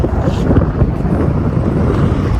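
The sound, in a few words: heavy wind blowing into microphone at frozen Lake Geneva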